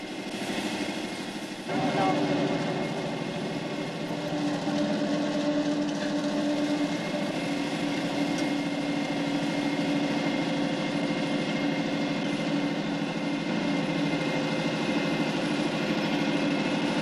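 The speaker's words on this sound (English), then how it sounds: "riding his tractor" A farm tractor engine drones steadily while cultivating a cornfield, a continuous mid-distance rumble with a slight surge near the start, and someone talks over it.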